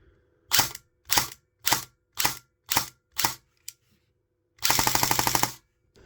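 Golden Eagle 6669 MCR M4 LMG airsoft gun firing six evenly spaced short bursts with a small click, then a longer rapid full-auto burst, each rattling buzz crisp and close with silence between.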